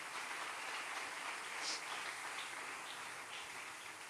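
A church congregation applauding, making a steady, even wash of many hands clapping that stays at a fairly faint, distant level without pause.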